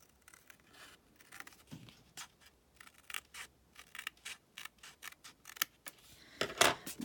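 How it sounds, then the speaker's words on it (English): Scissors trimming excess paper, a series of close, crisp snips and paper rustles in an irregular rhythm, with a louder burst of cuts toward the end and no talking. "And then I will trim off the excess here that I don't need."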